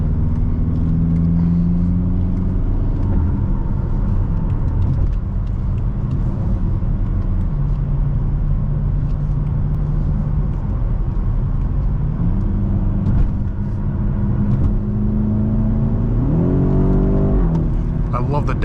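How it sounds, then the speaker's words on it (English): A 2018 BMW X5M engine revs loudly from the cabin while driving, its tone climbing and dropping through downshifts with a rising blip near the end, all over a constant road rumble. "I love the downshifts."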